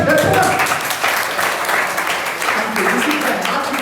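Audience applause at a motivational speech for school students, a loud burst of clapping from a crowd lasting a few seconds, with voices mixed in.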